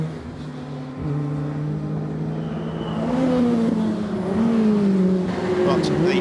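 Lotus race cars on track at Brands Hatch, engines droning and revving at a distance with rising and falling pitch as they accelerate, under a commentator's steady talk.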